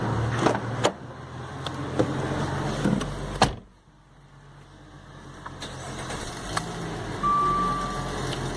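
A car engine cranks and catches after a loose relay is pushed firmly into its socket, with clicks and handling noises first, then a steady low idle and a faint electronic beep near the end.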